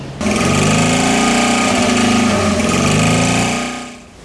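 A small engine in an Intermeccanica car runs loudly and close at a classic car concours at Villa d'Este, a buzzy, rapid mechanical drone that holds steady and then fades as the car moves off.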